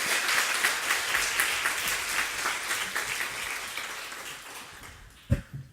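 A church congregation claps to welcome a pastor, brisk, many-handed applause that gradually thins and fades, ending with a sharp close thump and near silence.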